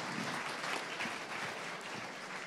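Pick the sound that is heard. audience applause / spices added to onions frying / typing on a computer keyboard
audience applause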